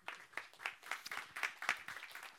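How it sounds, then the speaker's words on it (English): Sparse audience applause greeting a moderator at an energy policy debate in Almedalen, a scattering of separate claps that stays fairly quiet and light over a couple of seconds. "please welcome Cecilia with a round of applause"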